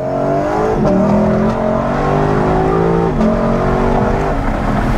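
A Lexus LC500 in full sports mode pulls hard from first gear, its loud engine note rising and then dropping sharply at quick upshifts, heard close from inside the car.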